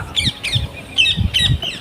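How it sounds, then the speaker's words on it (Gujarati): Sparrows chirp in quick, bright bursts, about four or five sharp calls in a row, fairly close, over a faint low hum, in a castor field. "ચકલાનો મસ્ત અવાજ આવે છે"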